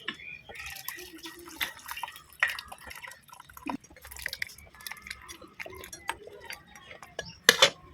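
Chicken curry pours and drips into another metal pot, mixed with clinks and scrapes of utensils against cookware, in intermittent bursts.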